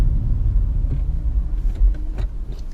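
A car that has just been converted to a manual transmission drives on the road, giving off a low, close engine and road rumble with slight surges. Brief muffled sounds occur inside the cabin.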